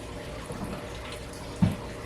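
A battered pork piece drops into hot frying oil, a soft thump followed by a busy bubbling sizzle over a steady background of frying.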